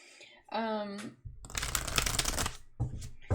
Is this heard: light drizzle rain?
no